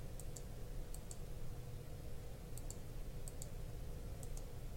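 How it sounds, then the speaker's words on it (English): Computer mouse buttons being clicked, several faint paired clicks scattered over a quiet background hum, close and very soft. "I'm going to right click and merge visible"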